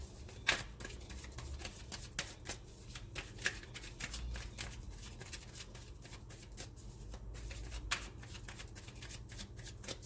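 Tarot cards shuffled by hand in a quiet room, a steady riffling patter over about ten seconds broken by sharper snaps and slaps as the deck is bridged and squared, close and soft, with no talking.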